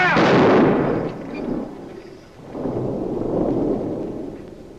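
A single booming rifle volley from a firing squad in a 1940 Western film opens loud, then rolls into a long echoing rumble that fades and swells again, with no talking.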